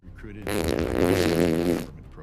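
A long, loud flatulent fart erupts and holds for over a second before cutting off, in an indoor setting at a film premiere at SXSW.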